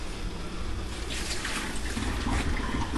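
Water is scooped out of a canning pot with a 2-cup measuring cup, giving a soft, continuous sloshing and trickling close by with no speech.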